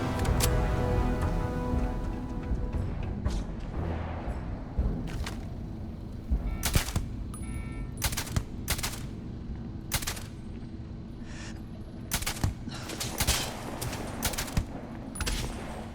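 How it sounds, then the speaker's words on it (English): Sniper rifle gunfire in the video game Starfield: Shattered Space, a long-range battle with sharp shots repeating at irregular intervals over a steady background rumble and loud throughout. "Just a long-range sniper battle."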